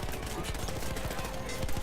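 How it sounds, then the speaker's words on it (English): Rapid machine gun fire in the World War I shooter Battlefield 1, a dense rattling stream of shots mowing down enemies, steady and unbroken with a voice faintly underneath. "It's just gunning down loads of these cannon fodder."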